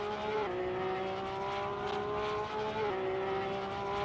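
A race car engine in a racing video game at Brands Hatch holds a high steady whine, dipping briefly as gears shift, with a faint rumble underneath.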